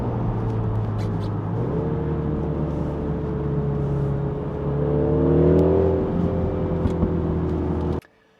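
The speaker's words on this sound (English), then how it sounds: "So that's our drive done in the John Cooper Works Countryman." Mini John Cooper Works Countryman All 4 engine droning as it drives, the pitch stepping up through the gears as it accelerates, close and steady, then cutting off abruptly.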